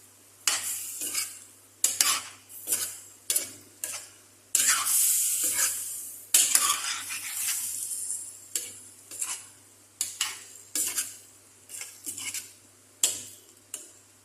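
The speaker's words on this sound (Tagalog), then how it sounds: "nilagay na po natin yung ating patatas" Potatoes fry in a pan of oil, sizzling in bursts as a utensil stirs and scrapes them in a steady rhythm of about one pass per second, close up and without talk.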